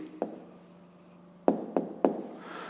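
Chalk or a pen taps and scratches briefly on a surface while an answer is written out for a fifth-grade maths exercise, a few sharp close knocks in a quiet room.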